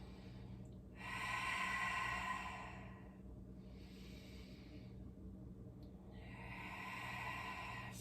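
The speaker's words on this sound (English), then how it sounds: "Slow, steady, smooth Ujjayi breath." Slow, deep Ujjayi breaths during a yoga flow: three long, airy, ocean-like hisses of breath, close and steady, with quiet pauses between them and no talking.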